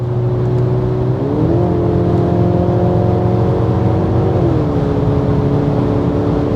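A 2024 Mercedes-Benz E-Class W214 accelerating at full throttle on the Autobahn, its engine note climbing steadily through a gear before stepping down at a shift and rising again, heard from inside the cabin over road and wind roar.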